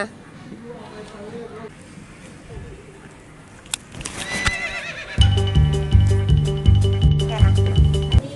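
A horse with a braided mane at a ranch-style attraction whinnies once, fairly close, among people talking, followed by a steady rhythmic background beat.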